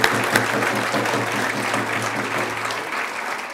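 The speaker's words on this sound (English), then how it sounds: "So I think we should give them a little bit of applause and thank them." Audience applause at a talk on people and planet policies, a continuous clapping wash at moderate level with a low steady hum underneath and no talk over it.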